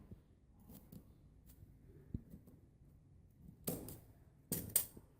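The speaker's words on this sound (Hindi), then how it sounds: "अब मैं इसको यहां से कटिंग करूंगी।" Scissors snip through fabric lining for a suit, two crisp cuts near the end after a quiet stretch of light handling noises and small rustles.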